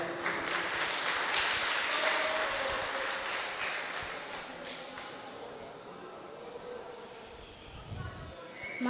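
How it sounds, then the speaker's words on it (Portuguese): Guests at a Roma wedding ceremony clap in a dense burst of applause that gradually fades, with voices talking over the clapping. "uma salva de palmas"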